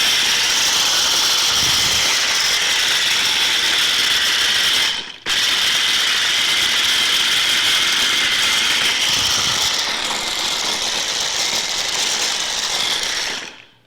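A small electric food processor grinds Regal nuts for a baked fish coating, giving a loud, steady, high whirring drone with one brief pause midway before running on and stopping.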